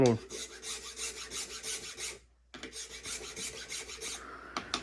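A file rasps across a wooden longbow tip in quick rhythmic strokes, close and fairly quiet, with a brief pause midway before the scraping resumes.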